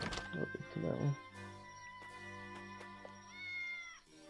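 A cat meows in the video game Triangle Strategy, one short close meow at the start, followed by soft, sustained musical tones and light game sounds.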